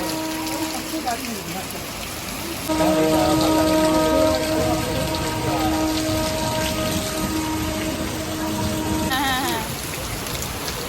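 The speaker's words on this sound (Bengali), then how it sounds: "ব্যাকগ্রাউন্ডটা দেখো কত জোরে বৃষ্টি হচ্ছে" Heavy rain pours steadily over everything during a storm near Tarapith, with an engine or horn-like tone layered on top and some nearby background noise.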